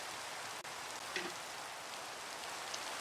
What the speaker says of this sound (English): What is with all of the rain?